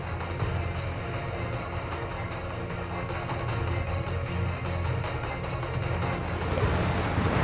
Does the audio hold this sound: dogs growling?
no